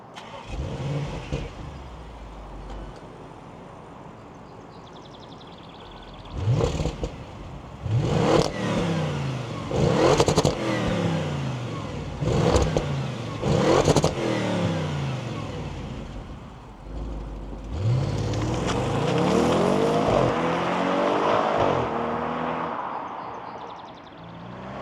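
A 2017 Audi S8 Plus with a 605 hp engine, first idling low, then blipped through a series of sharp, loud revs that rise and fall in quick succession, followed by a longer sustained rev and a fall back to idle.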